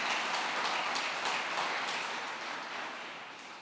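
A church congregation applauds during a sermon, a dense, steady patter of many hands clapping at a moderate distance that slowly fades toward the end.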